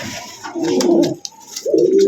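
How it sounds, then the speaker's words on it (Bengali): A racing pigeon pair among fancy pigeons offered for sale coos loudly and close, two throaty rolling phrases separated by a brief pause. "এখানে এক জোড়া রেসার কবুতর আছে"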